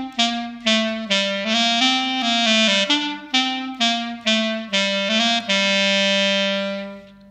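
Solo clarinet plays a short melody in separated notes, each note opened by a quick bagpipe-style grace-note flick, ending on a long sustained tone; close and clear with no talking.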